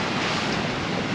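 Strong wind and breaking waves roar continuously around a sailboat beating close hauled into about 25 knots on the Red Sea, with heavily reefed main and jib; the broadband rush is loud and steady, with gusting wind buffeting the microphone.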